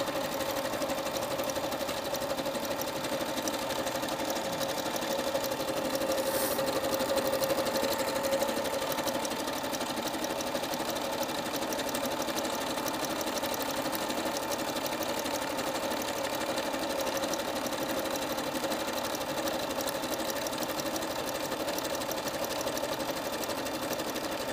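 A sewing machine runs continuously, stitching applique onto a thin piece of muslin. It gives a steady, close, even mechanical whir at constant loudness with no pauses and no talk.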